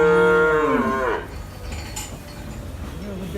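A cow on a dairy farm lets out one loud, close moo that falls in pitch over about a second, followed by quieter shuffling and farm noise.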